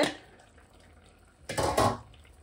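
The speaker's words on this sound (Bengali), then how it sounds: "আমি ঢাকাটা খুলে" A lid comes off a pot of prawns and pointed gourd after a low, quiet stretch, with a short metallic clatter and rattle near the end.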